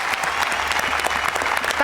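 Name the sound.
applause for both music composers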